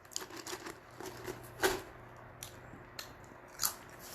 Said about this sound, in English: I'm eating salt and vinegar.